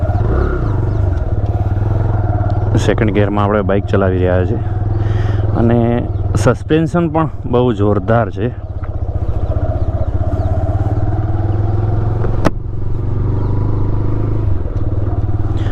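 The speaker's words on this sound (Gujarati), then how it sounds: "સેકન્ડ ગિયરમાં આપણે બાઇક ચલાવી રહ્યા છીએ" A TVS Raider 125 motorcycle rides in second gear, its engine droning steadily up close beneath someone talking, with wind rumble and a sharp knock near the end.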